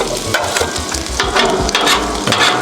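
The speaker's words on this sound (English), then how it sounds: "Got the eggs going. Doing it a little bit at a time so I don't get runny eggs" Eggs fry on a hibachi griddle at home for house special fried rice, a loud, close, continuous sizzle with rhythmic scraping and stirring strokes.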